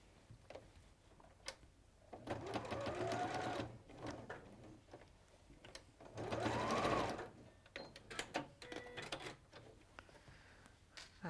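A sewing machine stitches pieces of fabric in two sustained whirring runs of a couple of seconds each, with small clicks and handling noises in between and afterward, and no talking.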